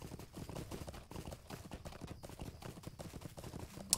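Horse hooves clip-clopping as a character rides a mount in Lord of the Rings Online, steady quick beats at moderate volume over faint background ambience, no talk.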